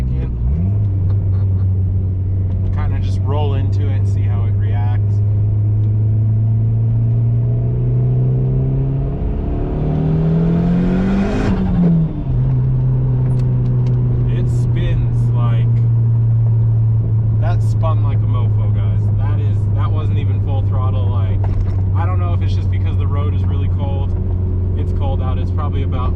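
A car with a new ECU drones along steadily in gear, then its engine note climbs sharply as it accelerates and falls back to a steady drone, with crackles and pops over it and someone talking at times.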